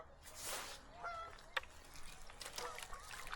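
Several geese honk in a quiet outdoor setting along the Missouri River, scattered calls at a moderate distance, a few overlapping.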